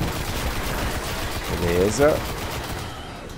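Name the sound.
gunfire from a video game (Destiny)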